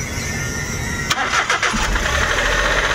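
A Suzuki DA64 engine with a suspected bad turbo cranks briefly and catches, then settles into a steady, fairly high idle, close and loud with no speech.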